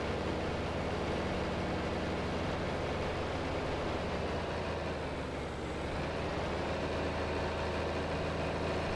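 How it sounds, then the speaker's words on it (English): Older tractor engine idling in a video game, a steady, loud low rumble with constant broadband mechanical noise running unbroken throughout, no talk over it. "Being an older tractor, this thing's probably a gas hog."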